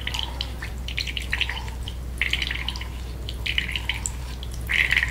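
Ragi milk, extracted from ground finger millet thinned with extra water, drips through a strainer in a steady run of small, close, light drops against a constant low hum, with no voices.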